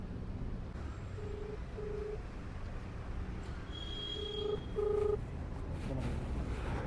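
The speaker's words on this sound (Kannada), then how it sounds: "ಶಿವಾಗ ಫೋನ್ ಹಾಕೋಣ, ಶಿವಾಗ ಹಾಕು" A phone call being dialed, with a short series of steady electronic keypad tones repeating under constant background noise.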